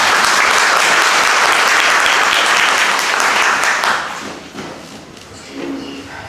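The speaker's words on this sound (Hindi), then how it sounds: "आइए अपने प्रभु यीशु के लिए जोरदार मिलकर सब तालियां बजाएं" A church congregation applauds Lord Jesus in loud, sustained clapping that lasts about four seconds, then drops off into a few scattered claps and faint room noise.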